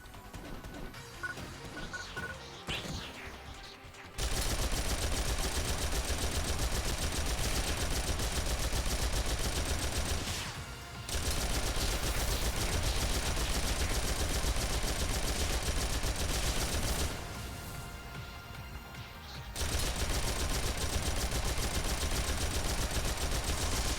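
Rapid, sustained bursts of turret fire in a video game, loud and continuous for long stretches, broken by short pauses between volleys.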